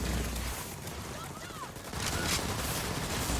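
Clicking, clacking mechanical bursts of explosive rounds activating on an Accord Dreadnaught battleframe in Firefall, a sci-fi shooter, mixed into dense, steady weapon fire that swells louder in the second half.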